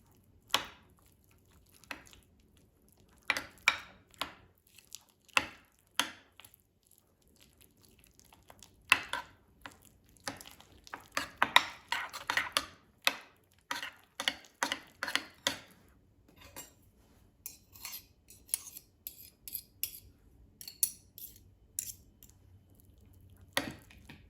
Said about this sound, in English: And now mix everything until combined.